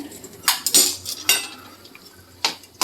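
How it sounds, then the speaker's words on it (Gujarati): A spoon clinks and scrapes against a metal pot while sheera is stirred, with several separate sharp metallic knocks spaced irregularly over a quiet background. "ચાલો હલાવી દે મિક્સ થઈ જશે"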